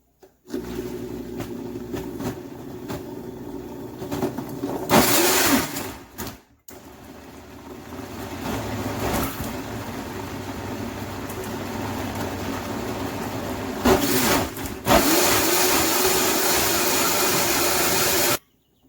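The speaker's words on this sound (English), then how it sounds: "And blend it up." A blender whirs steadily as it blends roast beef broth for birria consommé: a loud, continuous motor drone that briefly cuts out partway through, then resumes and grows louder toward the end.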